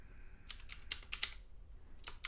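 A run of quick, faint clicking keystrokes on a computer keyboard, one short burst, a pause, then two more taps, close and quiet with no talk.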